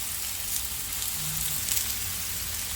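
Sliced onions cook in canola oil on a Blackstone griddle, giving a soft, continuous sizzle with faint crackle, steady and close with no voices.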